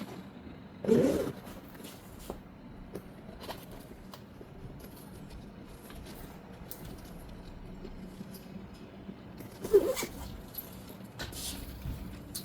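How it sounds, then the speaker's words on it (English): Zippers on leather seat covers for a Chevy Silverado pickup being closed, two short rasping zips a few seconds apart against a quiet, faintly noisy background. "And we do our zippers."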